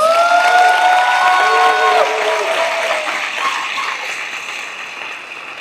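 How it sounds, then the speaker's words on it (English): An audience breaks into applause with cheering, a dense wash of clapping and crowd voices that starts strong and slowly fades over several seconds. "He deserves a bigger round of applause."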